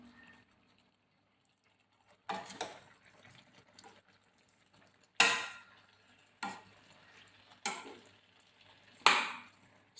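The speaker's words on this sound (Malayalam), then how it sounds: "വെളിച്ചെണ്ണ വെച്ച് ഒന്ന് ഇളക്കി കറിവേപ്പിലയും വെച്ച് കൊടുക്കുക." A spoon stirs avial, a vegetable and coconut dish, in a pan with coconut oil and curry leaves: four or five short, soft scraping strokes spaced a second or two apart, close by and quiet.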